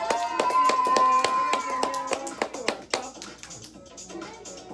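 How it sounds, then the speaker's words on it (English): Scattered claps from a small audience at a fashion show ring out as distinct sharp hits over a musical backing, louder early on and thinning into sparser, fainter claps toward the end. "Everyone, let's give her a round of applause."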